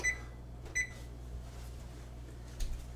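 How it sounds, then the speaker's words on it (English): Three short electronic beeps from an oven being set to preheat to 350 degrees F, spaced about a second apart, over a low steady kitchen hum. "Let's start by preheating the oven at 350 degrees F."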